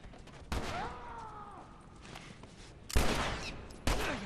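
Gunfire in The Last of Us, with three loud, sharp shots spaced over a few seconds, each followed by a brief tail, over a low hum of game ambience and no talking.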